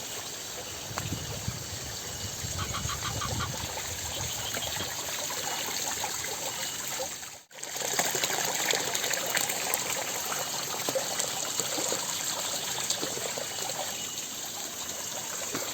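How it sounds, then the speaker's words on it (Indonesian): Water gushes and splashes beside an old Japanese-era stone house, a continuous bright rushing flow that holds steady throughout, with a brief dip partway before resuming just as strong. "Dan untuk airnya sahabat, waduh menggolontor tuh."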